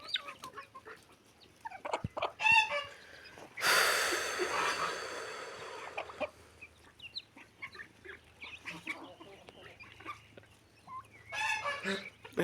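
Chickens cluck and squawk in a farmyard, with a loud burst of flapping and commotion near the middle, and scattered clucks continuing before and after.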